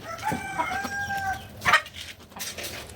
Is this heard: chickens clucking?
yes